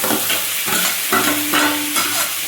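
Garlic sautéing in a pan, with steady close sizzling broken by rhythmic stirring scrapes, a faint tone humming underneath, and no voices.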